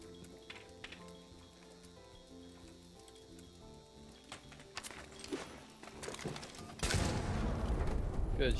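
Hip-fire gunfire in a ranked shooter video game: a sharp loud burst of shots near the end, after quieter game sounds with scattered clicks.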